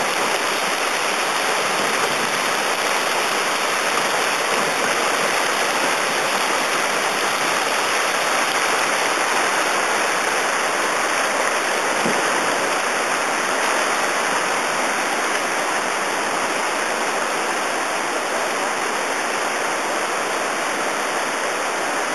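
Loud, steady rushing water of river rapids fills the whole stretch, a dense continuous roar with no voices and no letup.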